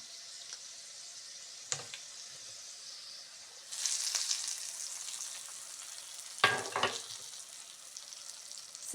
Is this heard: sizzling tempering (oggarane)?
yes